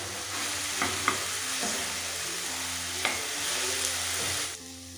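Squash frying in a pan over a gas flame, stirred with scrapes and clinks standing out from a steady, close sizzle that cuts off abruptly near the end.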